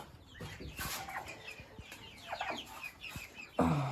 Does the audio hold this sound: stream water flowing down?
no